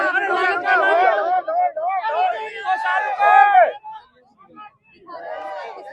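Crowd at a nighttime candle march rally in Aali village, Delhi, with many voices chanting and shouting together in loud, overlapping bursts that break off briefly before picking up again.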